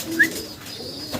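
A pigeon at a pigeon farm gives a single short coo up close, followed by faint background chirps.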